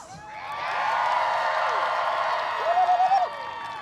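Audience at a medieval faire joust, a crowd cheering and whooping in a sustained roar of voices that swells and holds, with a few sharp yells standing out near the end.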